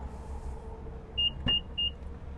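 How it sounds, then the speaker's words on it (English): Hands-free power tailgate on a 2023 Infiniti QX55 starts opening after a kick under the bumper, with three short electronic beeps and a click over a low idling engine hum. "just kick your foot under the bumper to open it up"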